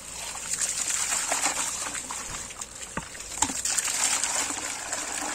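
Water rushes steadily out of a swimming-pool sand filter during backwashing, a continuous, fairly close hiss and splash with small splatters and no voices.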